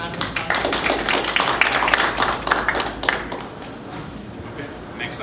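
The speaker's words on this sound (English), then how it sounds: "So again, round of applause." A student government meeting audience claps, a burst of applause that swells for about three seconds and then fades out to quiet room tone, with a few sharper individual claps standing out.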